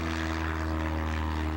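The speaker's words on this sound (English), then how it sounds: "He's flying that plane." A propeller airplane drones steadily in flight, a loud continuous engine hum with a low rumbling buzz throughout and no voices.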